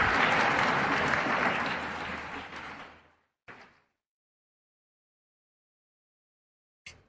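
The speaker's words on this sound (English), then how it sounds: "A big round of applause for Nandini Yadav." An audience in a parliament hall applauds for a speaker, dense clapping that gradually thins out and stops within a few seconds, followed by a short burst and then silence.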